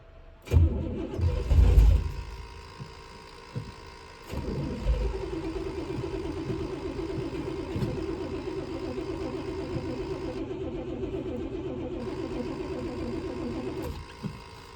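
A 1969 Buick Special Deluxe engine starts with a loud crank and a burst, cuts out, then catches again and settles into a steady, fairly close running hum until it dies at the end.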